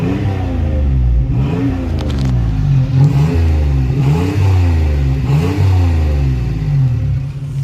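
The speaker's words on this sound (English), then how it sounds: "Now that it's warm, I figured I'd let you guys listen to the exhaust." A 1994 Toyota 4Runner 5-speed 4x4 engine revs repeatedly through a deep, throaty exhaust, rising and falling in several loud bursts close by.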